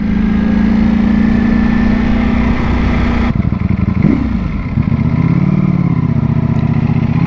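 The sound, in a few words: Ducati Panigale V4S 2022 motorcycle engine revving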